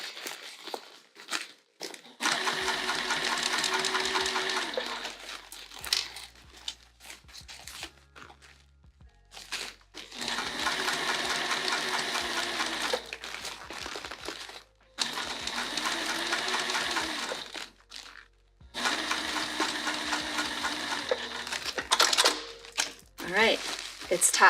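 A sewing machine runs in four long bursts of top stitching a few inches at a time, steady and close, with short pauses and fabric handling between runs and no talking.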